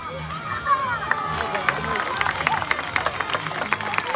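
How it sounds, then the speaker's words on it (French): Applause from an audience at a dolphin show, a few seconds of scattered clapping and crowd noise with a voice talking over it, lively and moderately loud. "on a appris au dauphin que les applaudissements c'était très positif"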